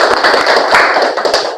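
Classroom applause for Kirana's student group: many pupils clapping loudly and close, a busy, irregular patter of sharp hand slaps sustained throughout before tapering slightly at the end.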